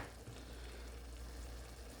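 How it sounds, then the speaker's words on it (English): Eggs fry in a pan that is kept only for eggs, giving a soft, steady sizzle and crackle that stays faint and even throughout with no voices. "this is one pan that I have solely for the use of eggs. Now while that's cooking"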